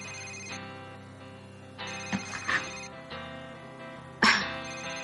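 A telephone rings in repeated electronic bursts that stand out against a steady tonal background, with one sharp louder hit near the end and no talk.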